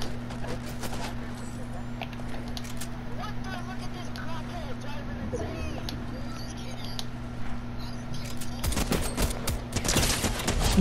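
Combat SMG gunfire in a video game, rapid bursts of shots crackling throughout, louder and denser toward the end, with a player talking over it.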